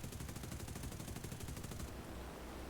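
Distant long-range gunfire in B-24 Last Man, a World War II bomber game, heard as a rapid, even stutter of shots that runs steadily, then cuts off near the end, leaving a broad rushing background.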